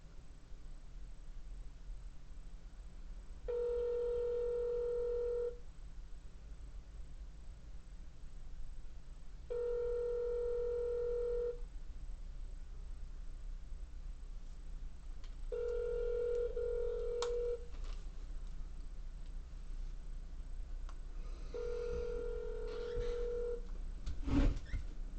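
Automated phone menu on a phone line: repeated steady ringback tones in even two-second bursts, spaced about four seconds apart, with brief keypad beeps near the end over a low hum.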